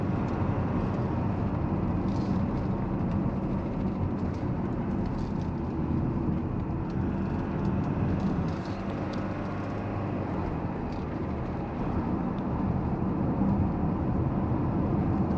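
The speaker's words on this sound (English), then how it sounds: "On this rough seal, we are picking up quite some road noise here and there" Steady road noise fills the cabin of a Kia Sorento facelift 2.2 diesel on rough chip-seal road, a constant low rumble and hiss at even level with no voices.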